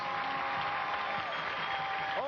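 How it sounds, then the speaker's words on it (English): A studio audience at a taped children's game show claps steadily in a continuous broadband wash of applause, fairly loud and filling the whole moment. "let's have a round of applause for Nadine, and also for Bruce."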